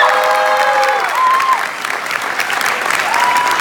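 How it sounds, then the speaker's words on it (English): A youth conference audience applauds a teen speaker with steady, loud clapping in a hall, and a few voices and tonal sounds rise above it. "How about a nice big round of applause for Elijah?"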